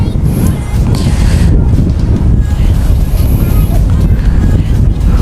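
Loud, constant wind rumbles across the microphone with a faint wash of waves beneath at low tide on Boton Beach, Santa Elena, Camarines Norte, steady for the whole stretch.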